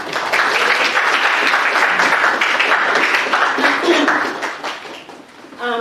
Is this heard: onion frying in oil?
no